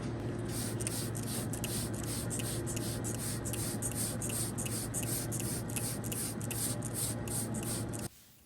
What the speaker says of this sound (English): I'm spraying this out thoroughly right now